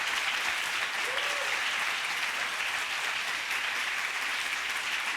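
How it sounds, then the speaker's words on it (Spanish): A church congregation breaks into sustained applause, a thick, even wash of clapping that holds steady for several seconds with a faint voice rising briefly over it. "Aplauda a Jesús"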